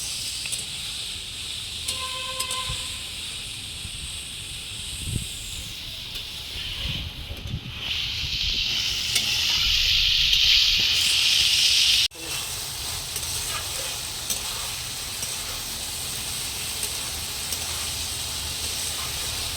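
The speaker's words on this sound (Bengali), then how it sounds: "আজ কিন্তু বন্ধুরা খুব হাওয়া হচ্ছে, আমার উনুনের আগুন এদিক ওদিক চলে যাচ্ছে" Strong wind buffets an outdoor clay stove where potatoes fry for samosa filling, a steady broadband rush with a louder gusting stretch midway and faint crackles underneath.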